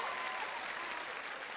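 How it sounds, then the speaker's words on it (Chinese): Studio audience applause at a Chinese TV gala for a challenge show: dense, steady clapping from a large crowd, loud and continuous throughout with no voices over it. "听一听我们现场观众朋友们给你们的掌声。"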